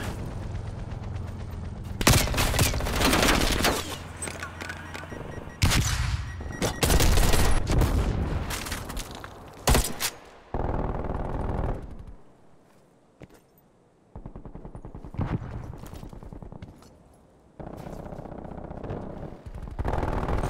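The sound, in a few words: sentry turret machine gun fire in Call of Duty Black Ops Cold War video game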